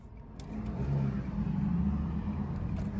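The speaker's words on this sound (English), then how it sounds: "you'll hear I got a little straight pipe" A Nissan Altima engine idles and rumbles steadily through a straight pipe exhaust with a low, throaty tone, fairly loud and close, with no talking.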